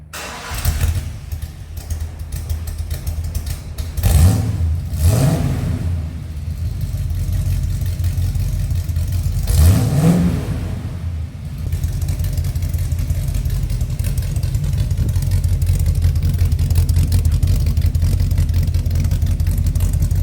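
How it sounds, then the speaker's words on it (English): A 1979 Ford with a 351 V8 starts up and settles into a steady rumbling idle, blipped with two or three short throttle revs early on, close and fairly loud with no talking. "Let's see what this 1979 Henry sounds like"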